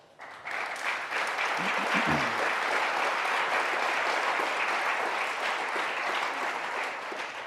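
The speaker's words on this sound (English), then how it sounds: "extend a round of applause first to the Batten School and President Sullivan" A large audience at a congressional town hall at UVA's Batten School claps steadily and loudly, a dense unbroken wash of applause that stays full throughout.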